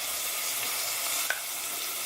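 Frozen seasoning cubes dropped into hot oil give a steady, close sizzle with one brief sharp crackle partway through; no one speaks.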